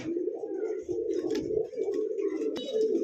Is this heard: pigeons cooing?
yes